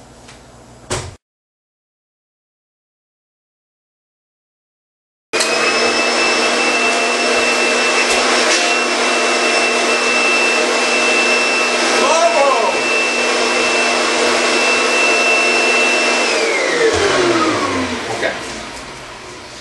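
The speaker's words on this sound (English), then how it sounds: "I will switch my vacuum cleaner back around now to my blow mode so that I can blow out my PC" A loud vacuum cleaner in blow mode, used to blow dust out of a PC, whirs into a steady high-pitched roar after a silent pause, its pitch shifting briefly before winding down near the end.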